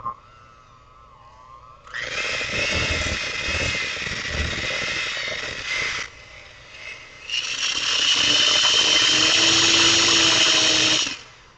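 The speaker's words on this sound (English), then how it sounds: "And if your hand mixer has the little turbo button on it, where you can push it, make it go really fast" An electric hand mixer blends pineapple cookie dough, whirring steadily and close up for about four seconds, stopping briefly, then running again louder and higher-pitched for another four seconds before cutting off, with no talking.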